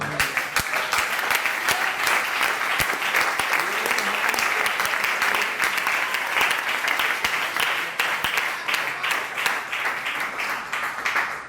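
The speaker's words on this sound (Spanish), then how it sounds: "Dale un aplauso al Señor" A church congregation applauds steadily and fairly loudly, many hands clapping together for several seconds with no break.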